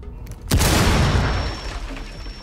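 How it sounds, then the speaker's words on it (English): A breaching charge blasts a wall in Rainbow Six Siege, one sharp, loud, close boom after a brief quiet moment, followed by a rumbling decay and scattering debris. "Setting breach charge."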